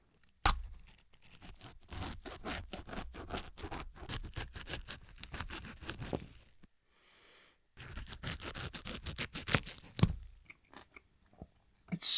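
A leaf from a plant being ripped and chopped open at close range, a rapid run of crisp crunching, tearing snaps and cuts, a short pause, then another burst of crunching and a few final sharp chops.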